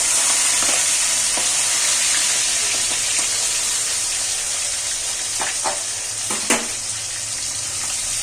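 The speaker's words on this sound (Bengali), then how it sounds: "চিংড়ি মাছগুলো ভাজছি" Steady hot-oil sizzle of shrimp frying, close and continuous, with a few sharper crackles and pops toward the end.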